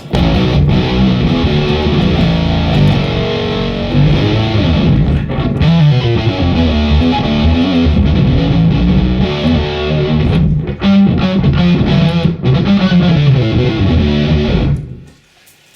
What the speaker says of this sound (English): As soon as I add that distortion channel on there